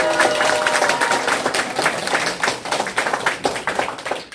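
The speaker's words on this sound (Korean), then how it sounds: "힘찬 박수로 모시도록 하겠습니다" An audience at a Korean public lecture on the climate crisis gives a lecturer dense, sustained applause, many hands clapping at once that fades a little toward the end.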